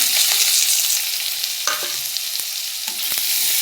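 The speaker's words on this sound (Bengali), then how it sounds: "পেঁয়াজটা লঙ্কা আমি একটু লাল করব। তেলটা খুব গরম হয়ে গেছে, ভালো করে লাল করে নিচ্ছি।" Chopped onion and green chilli fry in very hot oil with a loud, steady crackling sizzle, broken by a few sharp scrapes and taps of a stirring spoon, close up with no talking.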